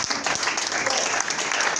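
A church congregation bursts into dense, continuous applause, many hands clapping at once in a bright, sustained wash that fills the room.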